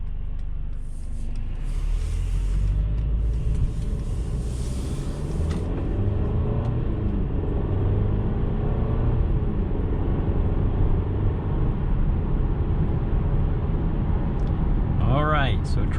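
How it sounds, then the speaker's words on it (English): Inside a 2021 Mercedes-Benz C300 on the move, a smooth, constant low engine and road rumble carries on steadily while someone talks over it. "driving the 2021 Mercedes-Benz C300, nice and smooth"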